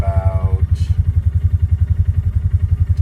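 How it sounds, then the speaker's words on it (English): A Polaris Ranger 570 utility vehicle engine runs at a steady idle, its low throbbing pulse repeating evenly and fairly loud throughout, with a brief tonal whine at the very start. "When we turn on the vehicle"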